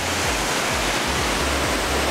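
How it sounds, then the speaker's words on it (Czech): Continuous roaring rush of the Gollinger waterfall near Salzburg, dense and steady throughout, with low churning pulses underneath. "Tady je asi další vodopád."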